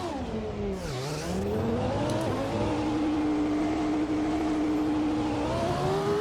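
Mercedes 2.4-liter V8 of a McLaren MP4/22 in a racing video game, idling then revving with a dip and rise in pitch around the first second, then holding a steady loud high drone throughout.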